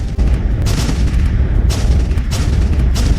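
Heavy Ottoman cannon fire during the 1456 siege of Belgrade comes as a dense, continuous rumble of booming artillery shots, loud and relentless with no pauses.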